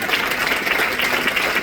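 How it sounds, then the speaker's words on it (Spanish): A church congregation breaks into loud, sustained applause during a Spanish-language sermon: dense, steady clapping from a large crowd that fills the whole stretch without pause. "Dale un fuerte aplauso."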